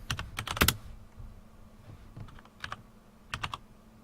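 Keys clatter on a computer keyboard in short quiet bursts of quick taps separated by pauses, close and clear with no talking.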